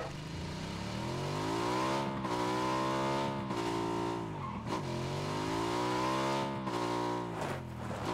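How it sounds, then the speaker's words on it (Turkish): A car engine in the video game PUBG, on the Erangel map, drones continuously in a sustained, loud whine that rises and falls in pitch as the vehicle speeds up and slows down. "Araba sesi duyuyorum."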